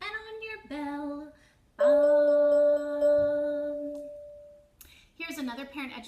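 A resonator bell is struck once and its bright, pure tone rings out and decays over a couple of seconds, with a teacher's sung voice heard before and after it.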